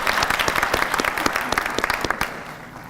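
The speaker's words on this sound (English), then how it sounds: "let's give a round of applause" Audience at a youth town hall on violence breaking into applause, dense clapping with sharp individual claps on top that fades out near the end.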